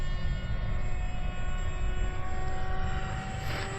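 An FMS F-16 64mm electric ducted fan RC model jet on its maiden flight gives a steady, continuous whine and rush of air throughout, fairly loud and even, with no talk over it.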